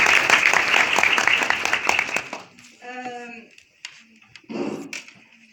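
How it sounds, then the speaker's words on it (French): Audience members at a presentation of ISG Bizerte applaud the DMK club with a burst of clapping that fades after about two and a half seconds, followed by a voice speaking briefly in the quieter room. "merci beaucoup au club DMK que je voudrais également applaudir"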